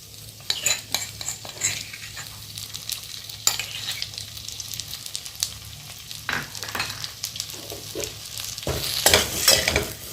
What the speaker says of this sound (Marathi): खजूर मऊ होईपर्यंत भाजून द्यायचं.